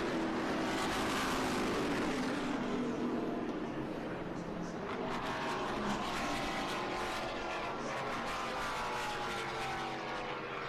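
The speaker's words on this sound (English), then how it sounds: "Here comes Finch. Dodge Charger" A Dodge Charger race car at a vintage race at VIR roars past, its engine a loud sustained drone that shifts in pitch as it goes by, with track commentary running over it.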